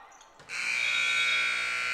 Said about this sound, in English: And the buzzer will expire.